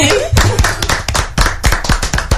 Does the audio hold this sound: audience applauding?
yes